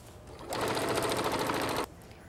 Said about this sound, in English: You're just gonna stitch it right here.